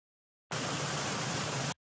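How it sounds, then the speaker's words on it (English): Loud waterfall, a steady broadband rush of falling water that starts and stops abruptly in a short isolated burst, with no voices. "All I want to hear is this waterfall."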